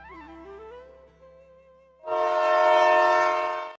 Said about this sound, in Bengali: হঠাৎ ট্রেন আসার শব্দ শুনে আমি চমকে উঠলাম। পো পো শব্দ করে স্টেশনে ট্রেন এসে থামতেই